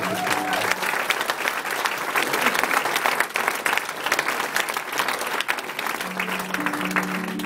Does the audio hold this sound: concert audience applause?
yes